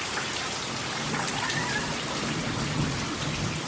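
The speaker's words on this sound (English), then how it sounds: "The thunder is rolling. Well, the rain is coming down." A stormy morning rain falls steadily and heavily, with a dense, constant hiss of drops on surfaces and a low rumble of rolling thunder beneath it.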